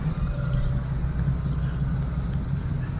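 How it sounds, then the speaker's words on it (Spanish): Traffic passing along a road in a small Mexican town, a continuous low rumble of car engines nearby, with a brief higher hiss midway. "aquí está peligroso, pasan los coches"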